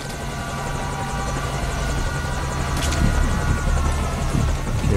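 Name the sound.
helicopter in Metal Gear Solid V video game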